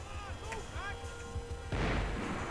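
Long-range gunfire in the video game Max Payne 3: a few sharp shots over a tonal music bed, then a loud, dense burst of gunfire and crashing noise in the final second.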